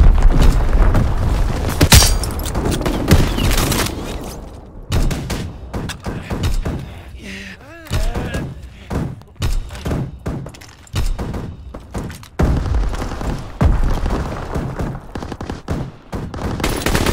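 Call of Duty bombing run, dense rapid explosions and bursts of gunfire pounding almost without a break, loud and close, with a brief dip in the middle before the barrage resumes.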